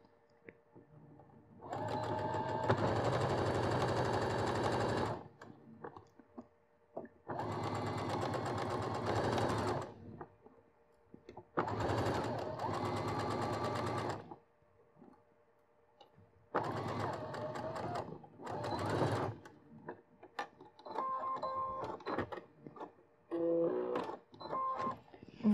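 A domestic sewing machine stitches a zip between fabric and lining in several separate bursts of rapid, even mechanical chatter, each a few seconds long with short pauses between, close and clear with no talking.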